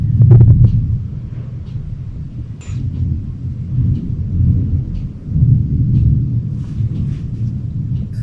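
Thunder from a storm rolls outside a window in the rain, a low, continuous rumble with a louder crack near the start and swelling waves later, heard from indoors with no talking.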